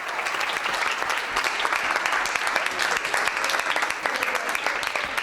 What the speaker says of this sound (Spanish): los miembros del Consejo de Ministros que le han recibido con este aplauso.